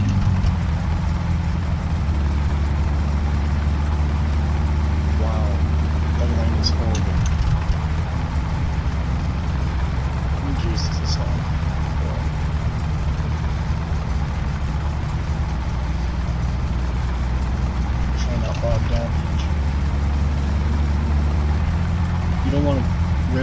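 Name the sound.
car engine idling in video game My Summer Car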